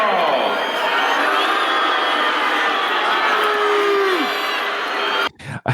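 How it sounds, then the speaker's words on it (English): Large arena crowd booing at a boxing match in Rocky IV, a sustained loud roar of jeers and shouting from many voices that fills the space, then cuts off abruptly near the end. "Look at the vitriol booing."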